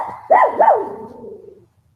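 Monty the dog barks twice sharply at close range, toward people walking down the road, and the second bark trails off into a fading whine with no one talking.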